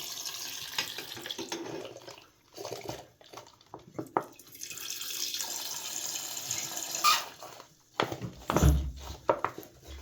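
Juice is poured into a bowl for homemade marmalade, coming in uneven splashing bursts with short pauses, close and fairly quiet.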